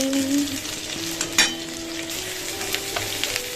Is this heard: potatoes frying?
yes